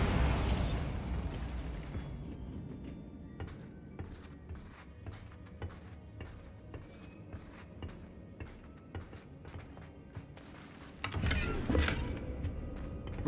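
A Bombarda blasting spell goes off in the video game Hogwarts Legacy: a loud burst opens the clip, then a run of rhythmic impacts and crackling over rumbling game sound, and a second heavy blast arrives near the end.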